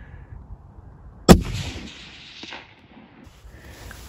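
A single loud rifle shot cracks out at close range during a moose hunt in British Columbia, followed by a short echoing tail in open country, with a faint distant sound trailing afterward.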